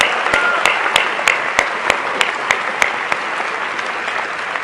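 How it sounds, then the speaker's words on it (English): A large dinner audience at a New York Archdiocese charity event applauds loudly and steadily for Al Smith, with dense clapping and some sharper single claps standing out. "great round of applause"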